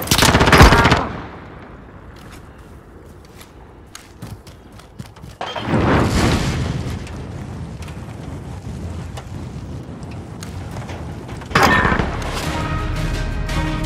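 Gunfire from a search-and-destroy match in a first-person shooter video game: loud bursts near the start, around six seconds and near twelve seconds, with quieter ambient game noise between them.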